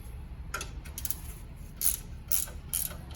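A hand ratchet with a 13 mm socket unbolts the lower shock absorber bolts on a Land Rover Discovery during a lift kit install, making several short bursts of quick, close metallic clicking with brief pauses between strokes.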